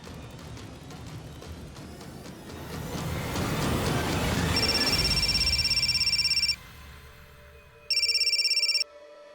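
An electronic telephone rings in a short trilling burst, pauses, then trills again, loud and close over a fading rumble of passing traffic with no talking.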